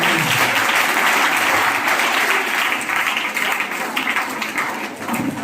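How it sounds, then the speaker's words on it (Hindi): An audience breaks into loud applause, a dense wash of clapping that gradually thins and softens toward the end. "एक बार ताली बजा दो।"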